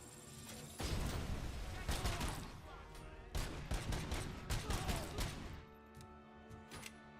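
Enemy gunfire in the Robocop: Rogue City video game, dense bursts of rapid shots in several volleys, loud and close, with a few sharp single cracks trailing off near the end.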